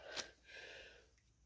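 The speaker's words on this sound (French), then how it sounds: "Oh, je vais éternuer." A single soft, faint sneeze bursts out sharply with a brief breathy tail and is heard alone with no talking.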